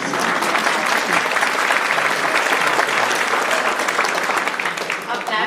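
Applause from the crowd at the Penn State Scranton 2025 commencement ceremony, loud and sustained, a thick roar of clapping that carries on for several seconds before easing slightly near the end.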